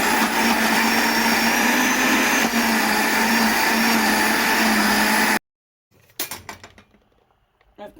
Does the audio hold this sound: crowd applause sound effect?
no